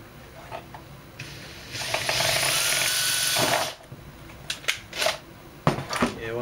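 A power drill bores through a part on a 2002–2007 Dodge Caravan during a thermal resistor and cut-off switch replacement, with a loud steady whine of about two seconds followed by a few clicks and knocks.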